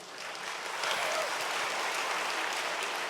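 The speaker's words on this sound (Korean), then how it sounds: "설교하는데 박수를 2번 받긴 또 처음이네요" Steady applause from a church congregation during a Sunday sermon, broad and sustained for about three seconds without voices.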